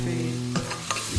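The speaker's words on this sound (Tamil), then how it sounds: "மஞ்சத்தூள் போட்டு நல்லா வதங்கிட்டோம்." Tomato, ginger and garlic paste with turmeric sautéing and being stirred in a pan, a steady close sizzle with a few scraping stir strokes.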